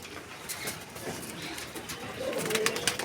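Pigeons of a breeding loft give soft, low cooing calls, faint to moderate and somewhat distant, repeating over a quiet background hiss.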